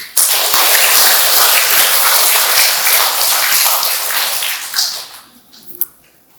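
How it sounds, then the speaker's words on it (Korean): A congregation at a charismatic prayer meeting claps loudly together in a dense, bright burst that fades after about five seconds, leaving a few scattered claps. "박수 한번 쳐드리시오."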